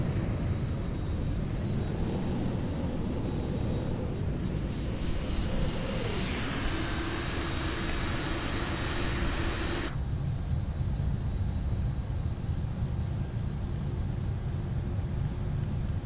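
A Boeing 747-8F's engines roar in a steady takeoff in Microsoft Flight Simulator 2020, with a loud broadband rush and a rising whine that cuts off abruptly into a lower, duller drone.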